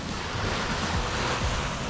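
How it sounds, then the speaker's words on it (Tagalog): Sea waves wash onto the shore at a fishing spot by the sea, a steady broadband surf roar with wind rumbling against the microphone and faint low swells rolling in throughout. "dito naman tayo sa tabi ng dagat"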